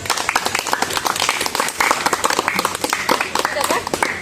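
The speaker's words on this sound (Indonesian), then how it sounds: "Tepuk tangan dulu." An audience claps together at a teachers' jamboree event, a dense, steady patter of hands lasting the whole stretch with a voice talking over it.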